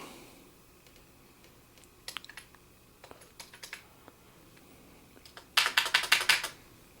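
Membrane keys on a Commodore Plus/4 keyboard being pressed during restoration, one key faulty: scattered soft clicks early on, then a quick burst of louder, closely spaced key presses near the end, no talking.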